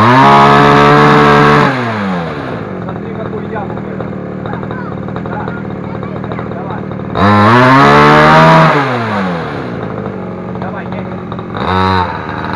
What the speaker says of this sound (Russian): заведем давай мотоцикл.